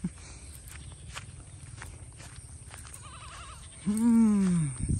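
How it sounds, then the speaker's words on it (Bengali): A goat bleats loudly and close, one long wavering cry near the end, on a riverbank path in the afternoon; footsteps and faint background noise come before it, with a shorter quieter bleat midway. "ছাগল বেয়া বেয়া গাইছে।"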